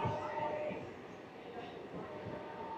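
Amghata–Krishnanagar local train rounding a curve on its way out of Krishnanagar City Junction, a steady moderate rumble of rolling carriages with faint rail clatter and murmuring voices around it.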